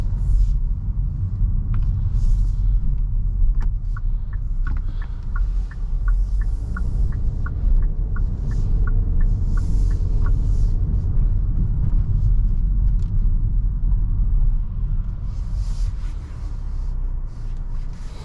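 Steady low road rumble inside a 2023 Kia Soul EX on the move, with a string of evenly spaced indicator clicks in the middle and occasional faint interior rattles throughout.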